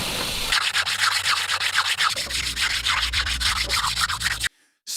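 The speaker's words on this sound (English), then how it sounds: "Special polishing solution smooths the surface, creating clean, refined finish." Steady abrasive rubbing of a sander working over a wooden surface on a mountain timber house build, loud and continuous with a rhythmic back-and-forth swish, then cutting off abruptly near the end.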